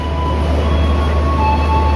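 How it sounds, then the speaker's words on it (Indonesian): Inside a Pramex local commuter train, a steady low rumble of running wheels and motor fills the space evenly, with a faint high tone above it and no voices. "Guys, jadi kita bisa masuk kereta lokal Pramex."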